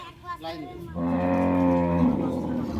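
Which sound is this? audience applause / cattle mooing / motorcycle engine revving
cattle mooing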